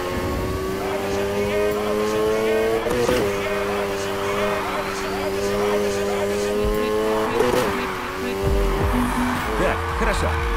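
A car drifting in the racing game Need for Speed Heat, with a steady engine drone and sustained tire squeal through the slide, loud and continuous throughout.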